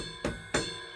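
Two bright metallic pings from an electronic ride cymbal's bell, evenly spaced, each ringing briefly over a steady background hum.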